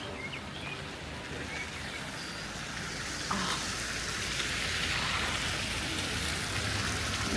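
Rain falls steadily in Varenna, a dense even hiss of drops on surfaces all around that grows slightly louder partway through, with no voices.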